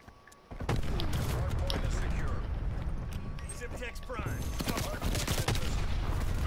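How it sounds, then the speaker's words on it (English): A stun grenade and rapid gunfire in Call of Duty: Black Ops Cold War, hardpoint mode: dense, loud bursts of shots that hit abruptly and keep going, with a player's voice talking over the firefight. "I got 4 stuns when I threw that stun grenade."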